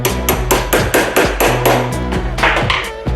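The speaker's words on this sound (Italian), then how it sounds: "Il colpo di martello serve per farlo penetrare leggermente all'interno." A hammer strikes an extractor tool seated on a broken gas cooker burner nozzle, about a dozen quick, sharp metallic blows in uneven rhythm, close and loud with nothing else audible.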